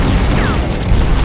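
Redeemer weapon firing in the arena shooter Unreal Tournament, a dense, loud blast with a rushing roar and a brief sweeping whine over a rumbling low end, filling the whole moment without pause.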